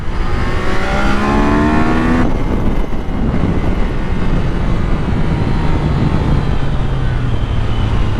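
A Triumph Daytona 660 triple engine revs and climbs through the gears, then settles into a steady loud drone with wind rushing past.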